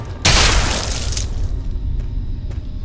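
A loud, sudden explosion in the video game Fallout 3 bursts out and roars with a shattering crash, then decays into a lingering rumble over several seconds.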